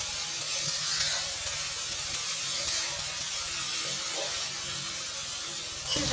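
Chopped onion, green chilli and tomato with salt cooking in mustard oil in a kadai, a dense continuous hiss of frying, close and even, with faint clinks near the end.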